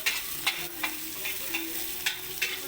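Onions frying in a pan under a constant low sizzle, with light, irregular clicks of a utensil stirring them every half second or so.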